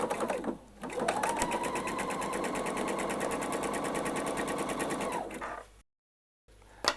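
A sewing machine runs a steady, continuous stitching burst for about four seconds, joining a fabric flounce to the front of a dress, then stops with a brief pause before faint handling.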